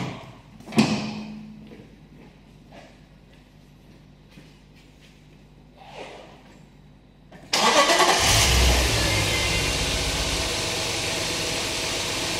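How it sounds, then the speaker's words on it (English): A car engine being started during an ignition coil test: a click and some quiet handling sounds, then the starter catches and the engine bursts into a loud steady idle that runs to the end. "Let's start the car."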